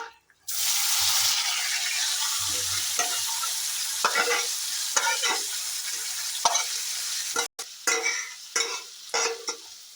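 Marinated chicken with bay leaf, turmeric and chili powder sizzles loudly in mustard oil over high heat, a steady close frying hiss broken by scraping stir strokes, with clinks near the end.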